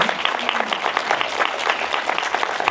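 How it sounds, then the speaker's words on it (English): Audience applause at a book signing event, a close, lively burst of clapping with distinct individual claps throughout. "can we give a big round of applause for our courageous peaceful warrior over here?"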